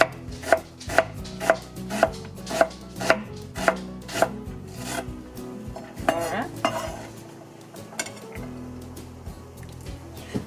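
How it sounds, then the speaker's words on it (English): A knife chops and minces onion on a cutting board, striking in a steady rhythm of about ten sharp, evenly spaced knocks, then giving way to looser, faster mincing taps and board scrapes, heard close. "now I'm just gonna cut this and then mince it."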